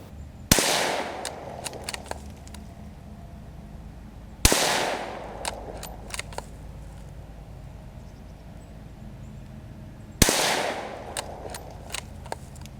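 Three sharp rifle reports from a Savage B17 FV chambered in 17 HMR firing CCI A17 17-grain ammunition at an outdoor range, spaced several seconds apart, each crack followed by a brief decaying tail and faint clicks.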